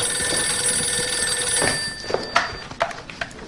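A telephone rings steadily in a drama scene, a sustained electronic trill that fades partway through as a few light knocks and clicks follow.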